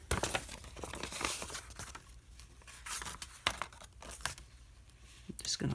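Paper is scored and folded for a lap book, with crinkling, scraping and crisp creasing sounds close by, while a person talks over it.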